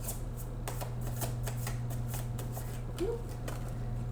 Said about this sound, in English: these cards are having a hard time shuffling today for positive reasons